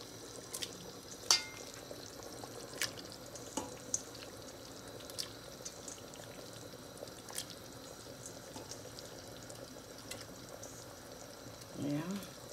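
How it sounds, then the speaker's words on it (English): Mutton simmering in sauce for biriyani in a home kitchen, a quiet, steady sizzle and bubble with scattered drips and soft clinks of stirring, fairly faint and continuous throughout. "Now we're going to put the meat in the sauce to cook."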